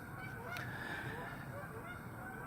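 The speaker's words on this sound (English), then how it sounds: "Got some geese flying by." Geese honk steadily in the distance as a flock passes, a continuous chorus of calls over a faint outdoor hum.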